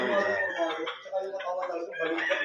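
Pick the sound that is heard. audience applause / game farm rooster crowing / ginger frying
game farm rooster crowing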